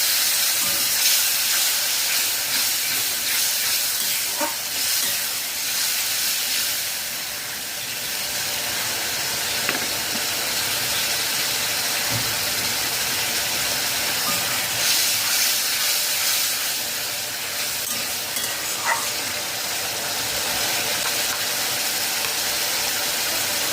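Mustard rohu fish curry simmering in a pot after hot water is added, giving a steady, close hiss and bubbling that runs unbroken for the whole stretch with no talking.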